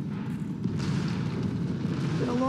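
An explosion in Marvel's Spider-Man Remastered: a low, rumbling blast with a lingering roar that holds steady at moderate loudness, then fades into a brief tonal game sound at the end.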